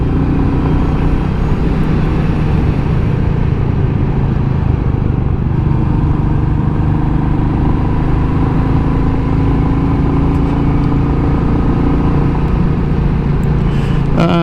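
A Royal Enfield Meteor 350 motorcycle is ridden through a series of bends, its engine a loud, steady drone with a constant rush of wind throughout.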